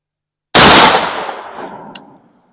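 A single loud shotgun blast firing a 7/8 ounce Foster slug with a tail wad, sharp onset then a long rolling echo that fades out, with a faint metallic ping shortly after.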